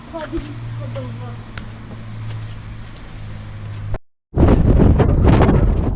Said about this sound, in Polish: Ale tu wieje.